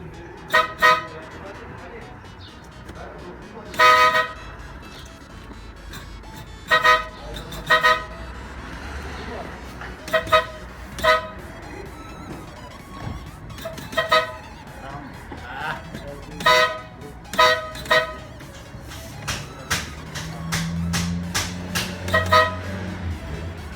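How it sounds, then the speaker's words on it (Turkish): A Tofaş Şahin car horn, repaired to sound like a Ferrari horn, honks in short, evenly spaced bursts, about a dozen toots over steady background noise, with some quiet talk near the end. "Ferrari kornası"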